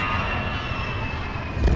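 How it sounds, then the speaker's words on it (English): Airplane engine roar during a plane crash scene in a Resident Evil video game, a loud steady droning rumble that swells into a heavier low thump at the end. "Oh, the plane crashed."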